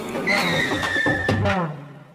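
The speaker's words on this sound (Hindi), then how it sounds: "बिरजू एक नई बाइक पर सवार होकर राजू की दुकान के आगे रुकता है" A new motorbike rides up in front of a small roadside tea shop and comes to a stop, a close engine rumble with a short tyre-skid-like screech before the sound drops away; background voices murmur underneath.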